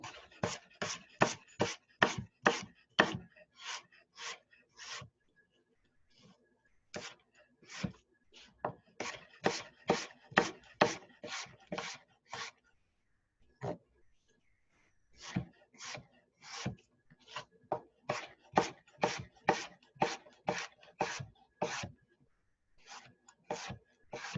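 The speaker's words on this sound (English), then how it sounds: "now I'm going to julienne my apple" Knife chopping an apple into julienne strips on a board, a long run of quick, crisp, evenly spaced strokes in bursts with short pauses, close and clear, no talking.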